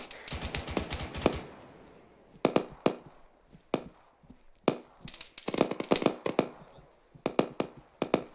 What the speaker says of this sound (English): Sounds like another fucking BTR cannon